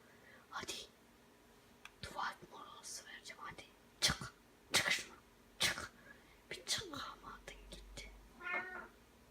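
A house cat meows several times, short close cries scattered between quiet whispered speech in a room, with some meows drawn out and wavering.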